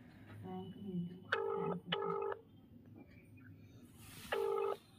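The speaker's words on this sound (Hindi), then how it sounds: "अब ये कॉल भी नहीं उठा रहा है क्योंकि हम वीडियो बना रहे हैं।" An outgoing phone call rings unanswered, with clean electronic ringback tones in short bursts, two close together and then another after a pause, over a faint, quiet background.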